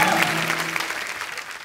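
A studio audience at a comedy talk show claps in a brief, full burst of welcoming applause that tapers slightly, with a faint voice underneath.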